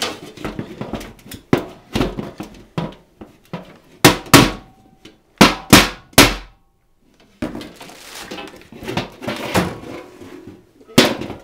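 Repeated hammer blows on the lid of a 55-gallon steel drum ring out in uneven bursts, with metallic clanks and thuds close by and short pauses between strikes.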